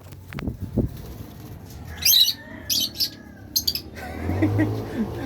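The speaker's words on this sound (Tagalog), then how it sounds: "25 pieces na African Lovebirds." African lovebirds, a batch of about twenty-five hand-fed birds at a bird show booth, give bursts of sharp squawks and chirps with wing flapping, close and fairly loud, over a busy room murmur.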